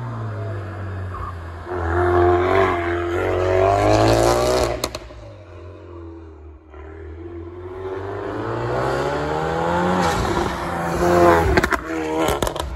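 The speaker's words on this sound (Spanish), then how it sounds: "mi cabeza se pega al asiento cuando Alex acelera su Focus Back RS" A Ford Focus RS MK3 turbo accelerates hard, its engine note climbing through rising revs, dropping at a gear change and then climbing again, loud and close from inside the car.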